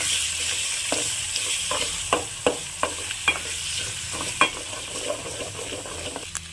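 Beaten eggs fry with onions in a pan as a spatula mixes them, a quiet sizzle broken by a run of crisp scraping clacks in irregular rhythm, close by with nobody speaking.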